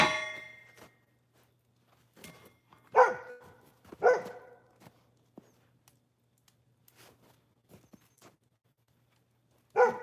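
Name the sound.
dogs barking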